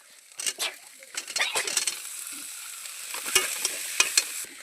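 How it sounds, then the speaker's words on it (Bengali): Spice paste with tomatoes being stirred and fried in a pan for aloo paratha filling, with soft sizzling under scattered bursts of spoon scraping and clatter, moderately close; a voice speaks briefly in the background. "ভালো মতো মশলাটা কষিয়ে নেবো"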